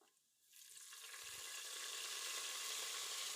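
Sardines laid over browned shallots in a pressure cooker sizzle and fry, the hiss bursting in loudly after a quiet start and holding steady and close.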